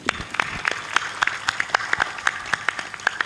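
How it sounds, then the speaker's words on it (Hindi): A gathering at a religious discourse claps in a sparse, irregular rhythm: distinct individual hand claps, moderately close, spaced roughly every few tenths of a second over a low murmur. "ताली बजाइए।"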